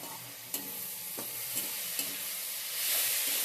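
Spatula stirring potato and onion in a hot pan for a drumstick flower fry, close and steady sizzle with a few sharp scrapes of the utensil against the pan, no talking.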